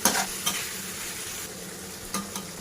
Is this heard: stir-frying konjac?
yes